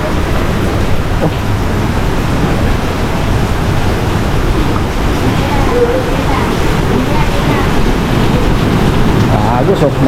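Heavy rain pours down at a market while runoff water rushes past in a loud, steady, unbroken wash, with voices faintly mixed in.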